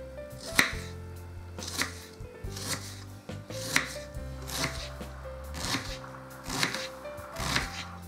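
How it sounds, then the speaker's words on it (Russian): A knife finely chopping onion on a cutting board, rapid bursts of crisp chops with short pauses between, close and clear, no talking. "Лук нарежу мелко."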